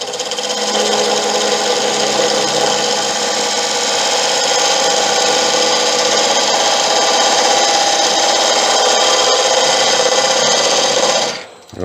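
A wood lathe cuts a tenon on an Irish bog oak blank, producing a loud, continuous scraping and rasping roar with a steady hum, sustained for about eleven seconds before cutting off sharply at the end.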